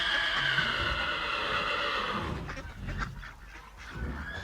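A foal gives a drawn-out, quavering whinny for the first half, fairly loud and alone, then it fades into quieter rustling background noise.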